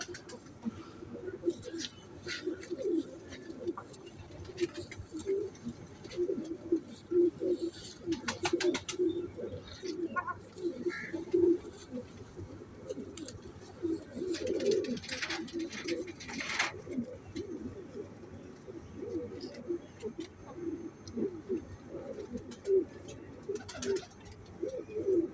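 Teddy and golden pigeons coo steadily in a low, throaty, overlapping rhythm close by, with occasional wing flutters and faint chirps and a voice now and then in the background.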